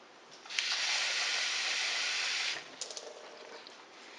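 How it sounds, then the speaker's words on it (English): Water pouring steadily into a cooking pot while a home-cooked roast is prepared, a close, even hiss lasting about two seconds, then a few softer splashes and drips. "Let me add a little bit more water to this."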